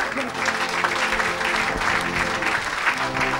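A church congregation applauding during a worship service, a dense, steady wash of clapping from many hands that fills the space throughout, with some voices mixed in.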